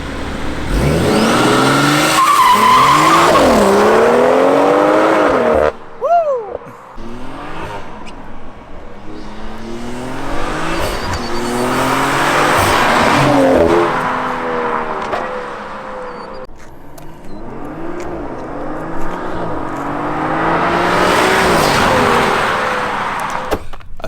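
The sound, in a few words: BMW 340i launching with tire squeal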